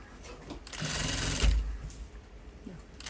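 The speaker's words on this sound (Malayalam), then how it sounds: "ഇതിങ്ങനെ മടക്കി ഒന്ന് തയ്ച്ച് എടുത്താൽ മതി" A sewing machine stitching a folded fabric hem, one short close run of rapid mechanical whirring lasting just over a second amid quiet room sound.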